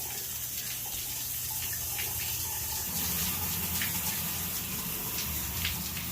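A shower runs steadily with a constant spray and hiss of water, near and even, and no voices break in for the whole stretch.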